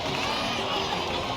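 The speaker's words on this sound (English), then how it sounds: "Let's give a huge round of applause to our brave young warrior, Kachina" A dense crowd in Genshin Impact cheers and chatters continuously, a steady wash of many voices at fairly loud level.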